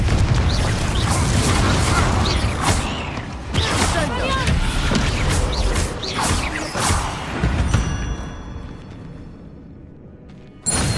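Bombarda and Confringo spells blasting in Hogwarts Legacy, heavy booming bursts with crashing debris in quick succession, loud and dense, fading toward a quieter tail before a final sharp hit.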